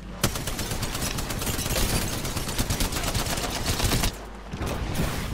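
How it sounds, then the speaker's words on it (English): Gibraltar's bombardment in Apex Legends, a dense barrage of rapid explosive blasts and gunfire-like cracks that runs loud and continuous, with a brief dip before resuming. "It's his bombardment."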